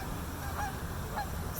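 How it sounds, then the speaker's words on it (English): Geese honk on the water, two short honks spaced about half a second apart over a steady low rumble of wind and movement. "geese also do the same thing"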